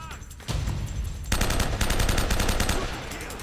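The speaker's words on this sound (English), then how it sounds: "But apparently, we're getting shot at." Enemy gunfire in Uncharted: Drake's Fortune: a close, loud burst of rapid automatic shots that breaks into sustained, rattling machine-gun fire.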